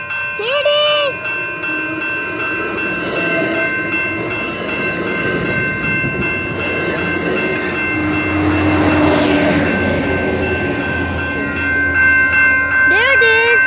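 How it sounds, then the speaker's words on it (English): An Amtrak train passes a crossing late at night: a loud horn sounds at the start, then a steady rolling roar and rail clatter build and swell. A second horn blast comes at the end, with crossing bells ringing throughout and someone speaking briefly. "There's the train."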